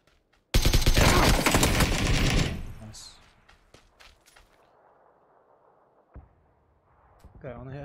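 Loud, dense burst of rapid automatic gunfire from the video game PUBG, lasting about two seconds before fading into quiet background noise with scattered faint sounds.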